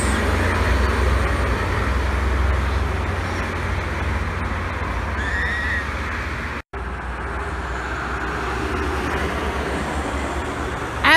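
An STC Rubia Mercy 2542 bus passing at the KM 429 Ungaran rest area, a steady engine and road rumble with a brief dropout midway, no talk over it.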